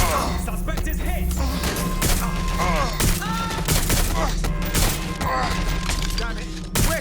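Rapid gunfire bursts and impacts in the PC video game Watch Dogs Legion, set in a quantum lab under a security alert, crackling continuously over a droning score with shouted game voices mixed in.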